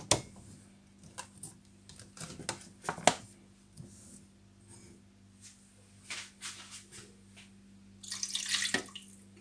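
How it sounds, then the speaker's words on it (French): Water is poured into softened butter and oil for homemade spreadable butter, making soft splashing and trickling with scattered clicks and knocks of kitchen handling, quiet and unaccompanied by talk, ending in a brief louder hiss of pouring. "On va mettre l'eau."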